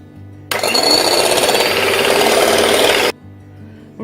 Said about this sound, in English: you have to whisk these until stiff peaks form